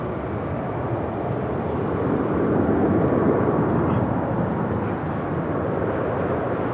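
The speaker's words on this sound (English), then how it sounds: "this aircraft will make a left-hand turn onto Lima" A jet taxiing at LAX airport, a broad low rumbling roar that swells slightly toward the middle and holds steady at moderate distance, with a faint voice underneath.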